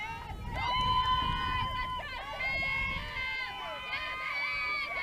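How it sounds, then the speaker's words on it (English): Girls in a softball dugout cheer and chant during a Moses Lake vs. Eastmont game, a steady stream of high voices with whistled or sung tones carrying over crowd noise for the whole stretch. "You can hear on our mics that the girls are really cheering"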